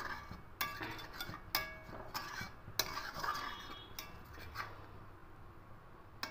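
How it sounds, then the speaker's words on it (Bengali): Chhana (curdled milk) and its whey being stirred in a pan over high heat while cooking sweets, with repeated scraping clinks of a utensil against the pan at an irregular rhythm over a steady low sizzle, close and moderately loud, no talking. "এটা আমি এভাবে নাড়তে নাড়তে জলটাকে একটু শুকিয়ে নেব"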